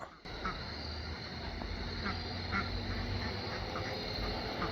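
Ducks quacking outdoors at dusk on a farm, a dense continuous chatter of calls from a flock at close to middle distance, with no gaps.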